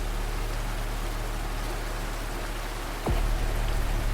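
Steady rain pours down in a dense, even hiss, with a single sharp click near the end and no voices.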